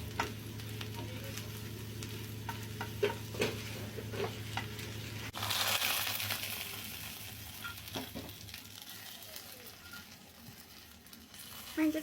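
Cumin seeds sizzle in a hot pan: a light crackle first, then a sudden loud hiss partway through that settles into softer frying and stirring noises.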